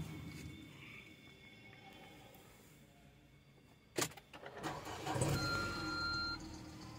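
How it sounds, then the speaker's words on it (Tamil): A used car's engine cranks and starts on a dealer lot, a brief starter burst followed by a steady idle rumble, fairly close with faint background noise before it. "இப்போ நம்ம வண்டி ஸ்டார்ட் பண்ணிடலாம்."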